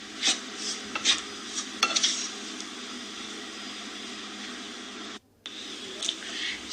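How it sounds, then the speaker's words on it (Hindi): Wheat flour roasting in oil in a pan as it is stirred for halwa, with a steady low sizzle and scattered scraping taps of the spoon against the pan, one brief dropout partway through. "सबसे पहले हम आटे को भूनेंगे, साथ ही तेल डालकर"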